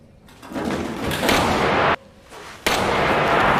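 A gunshot sound effect in an animated story recap: a loud, sharp burst with a sustained crackling tail, a brief drop, then a second abrupt blast that rings on to the end, with no talk.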